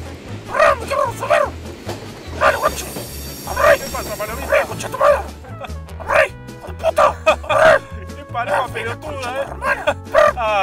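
Dog barks and yips in quick bursts against a busy background of music and overlapping voices in a compilation of funny animal moments, the barks loud and close but partly masked.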